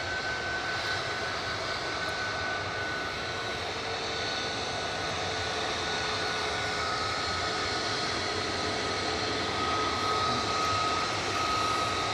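Tui jet airliner taking off from Manchester Airport for Innsbruck, a loud continuous engine roar with a thin whining tone, holding steady and building slightly toward the end, with no voices.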